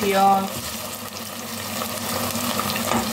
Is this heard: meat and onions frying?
yes